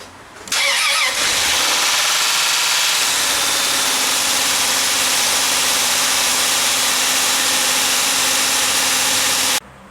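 A 2000 Chrysler 300M sedan engine cranking and catching after a cylinder head replacement, then holding a loud, steady, raised idle near 3000 RPM with a constant whirring roar until it cuts off.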